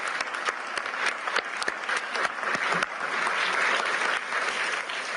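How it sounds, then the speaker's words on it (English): Sustained applause from a large conference audience at the World Economic Forum in Davos, dense steady clapping that fills the hall and swells slightly toward the end. "please join me in clapping for them"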